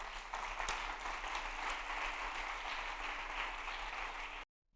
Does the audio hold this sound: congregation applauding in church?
yes